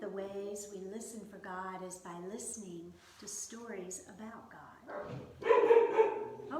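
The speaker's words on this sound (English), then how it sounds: "So I don't know if you can hear my dogs barking in the background," Pet dogs barking indoors in the background while someone speaks over them, with a louder burst of barking near the end as someone arrives at the door.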